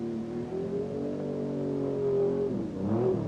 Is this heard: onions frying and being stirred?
no